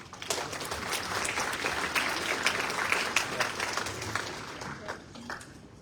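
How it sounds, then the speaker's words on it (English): A room full of people applauds at a teacher awards ceremony after a winner is congratulated, steady dense clapping that holds for several seconds before thinning out, with voices murmuring beneath it. "One more round of applause"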